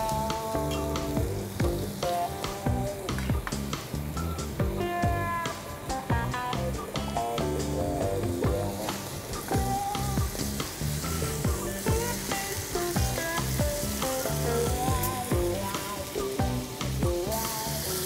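Pork frying in sesame oil for miso ramen, a loud continuous crackling sizzle with dense popping and busy stirring, close up and steady throughout with no talk.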